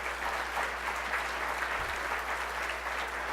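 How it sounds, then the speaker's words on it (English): Sustained, even applause from a crowd at a Martin Luther King Day breakfast keynote, a dense wash of clapping that stays at one level throughout. "Give us a big round of applause for that."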